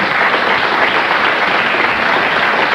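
A radio quiz studio audience gives a sustained, loud round of applause, a dense and even wash of clapping from a crowd with no talk over it.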